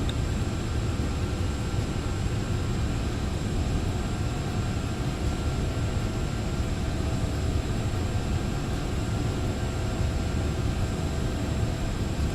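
Icelandair Boeing 757-200 takeoff roll in the X-Plane 11 flight simulator, a steady, loud broadband engine roar with a faint high whine holding constant throughout, no voices.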